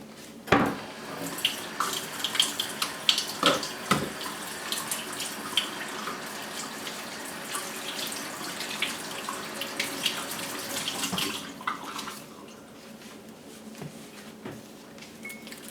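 Water runs steadily from a kitchen tap as hands are washed before making sourdough starter, with splashing and a few sharp clinks against the sink before the flow stops near the end.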